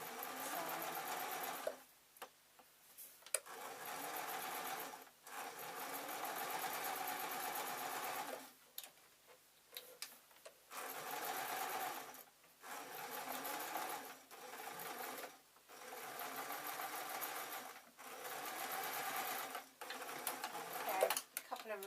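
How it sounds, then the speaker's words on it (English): A sewing machine stitches fabric in a series of steady, close whirring bursts. Short quiet gaps separate them while the fabric is turned, and there is no talk. "all I'm doing is letting the sewing machine take the bottom layer, whereas I'm turning the top piece of fabric."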